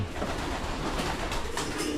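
Pigeons coo in a breeding section, soft repeated calls set against a dense, steady background noise, with no one speaking.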